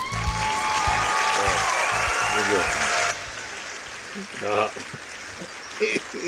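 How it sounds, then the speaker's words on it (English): An applause sound effect plays loudly for about three seconds, then drops to faint scattered clapping, with speech-like sounds mixed in. "The longest applause break ever."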